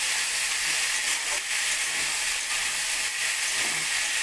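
Potatoes, pumpkin and long beans frying together in a pan for a spicy curry, giving a steady, loud hiss of sizzling oil with faint crackles and no voices.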